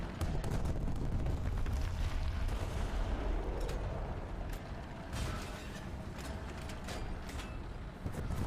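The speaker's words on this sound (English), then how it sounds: "Big bomb." A big bomb going off in a tank video game, heard as a dense, rumbling roll of blasts and mechanical clatter that keeps going at moderate loudness, with scattered sharp cracks and no voices.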